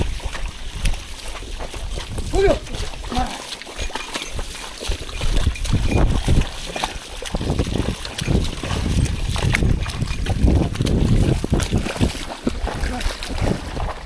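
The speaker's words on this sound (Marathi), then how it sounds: "इकडे पाणी नाही पोचलं असं उपसतोय" Water being bailed and splashed by hand in a flooded rice paddy during transplanting season near Tivare, with repeated sloshing scoops against steady wind noise on the microphone, close and fairly loud throughout.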